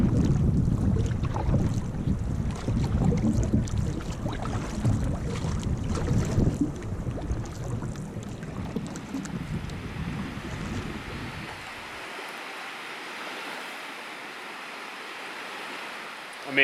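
A canoe on a 600 km coastal expedition through the northern wilds, with splashing paddle strokes and water wash over wind noise, loud at first, then easing into a quieter steady hiss.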